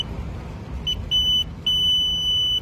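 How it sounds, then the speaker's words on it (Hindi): A race timing chip crossing the timing mat sets off a shrill electronic beep, heard as short chirps and then a sustained tone over a rumbling outdoor background with passing traffic. "चिप को आप जैसे यहाँ से पार करेंगे एक बीप का आवाज आएगा"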